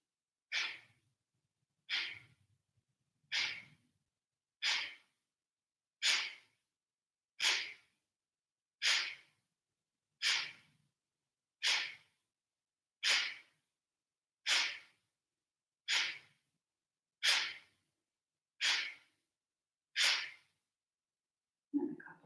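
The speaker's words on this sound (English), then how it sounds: "Regular breaths." Rhythmic yoga breathing exercise: about fifteen strong, evenly spaced breaths roughly every 1.3 seconds, each a sharp forceful burst, close and loud, with no talking.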